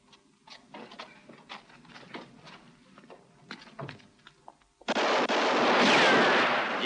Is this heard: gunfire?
yes